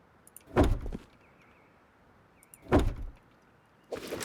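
Doors are placed one after another in a base-building survival game, each a short, loud mechanical clunk with a brief slide, heard twice with a third beginning at the end, alone with no talk.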